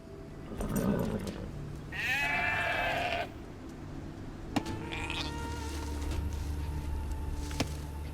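Sheep bleating in Age of Empires 2 on Xbox Series X: one drawn-out bleat over a steady game ambience, followed by a couple of soft clicks.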